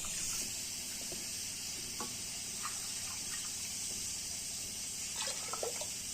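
Yellow maize rice is rinsed and swished in water in a kitchen, giving a steady wet sloshing with scattered small splashes and drips, fairly close and with no talking.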